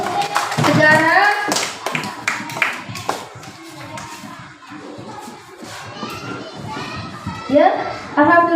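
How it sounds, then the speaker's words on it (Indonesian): A classroom of students claps for a presenting group, a burst of applause at the start and again near the end, mixed with children's chatter and a teacher talking over the room. "Tepuk tangan dulu untuk kelompok 4 ya."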